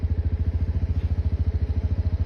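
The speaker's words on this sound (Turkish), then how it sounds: "Şu minik gaz sesini duyun." A motorcycle engine idles close by with a steady, rapid thumping beat, and a small throttle blip briefly lifts the revs partway through before it settles back to idle.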